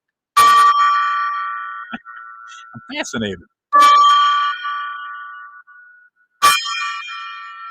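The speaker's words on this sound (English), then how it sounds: "we ring the golden gong, and we ring it 3 times" A small golden gong struck three times, each a loud, bright metallic clang that rings and slowly decays, with a person speaking briefly between strikes.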